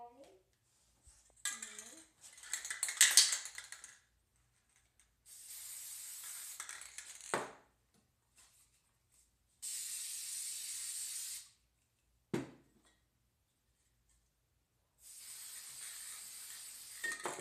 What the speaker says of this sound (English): Just spray it.